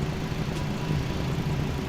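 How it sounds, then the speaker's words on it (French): The engines of an MD-11 airliner run in a flight simulator, a steady low mechanical hum and drone that holds level throughout, with no one speaking. "Maintenant que nos moteurs sont démarrés"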